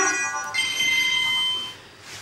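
A mobile phone ringtone plays on its own: a bright, melodic electronic tune of sustained tones lasting about two seconds, shifting pitch partway through before fading slightly.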